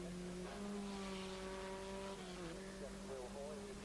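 Sports 2000 racing cars from the 1984 British championship work through the Park hairpin at Donington Park, their engines a sustained droning whine whose pitch drops and rises as they brake and accelerate, heard faintly beneath a commentator's voice.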